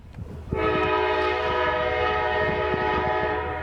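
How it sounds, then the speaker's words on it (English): A freight train horn blares loudly and steadily while the rumble and rhythmic clatter of eastbound rail cars passing through Bellevue, Ohio continue underneath. "one of their trains is heading eastbound through town"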